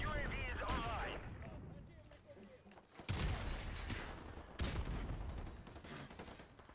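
Rapid MP5 bursts crackle in a Modern Warfare Remastered multiplayer match, coming in repeated sharp fusillades with short pauses between them. A voice talks over part of the shooting.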